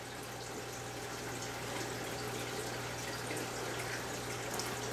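Aquarium water runs through a siphon hose in a faint, steady trickle and wash, with a constant low hum underneath and no talk.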